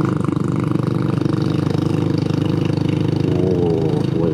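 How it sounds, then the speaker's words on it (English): A scooter engine labours and bogs down in second gear on a long-distance ride through the South Dakota Badlands and Black Hills. The close, loud drone pulses steadily and continuously. "Oh boy, that's really bogging down even in second gear."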